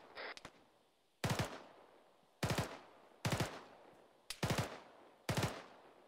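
Firefight gunfire: five separate short bursts of automatic fire, each a sharp cluster of rapid shots about a second apart, loud and close against quiet background, with a brief earlier clatter.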